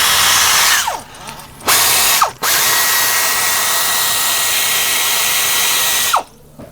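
A power tool spins up and winds down in several loud bursts, then runs steadily for about four seconds while removing EGR valve bolts from a 5.7 liter Hemi engine in a Chrysler, Dodge or Jeep.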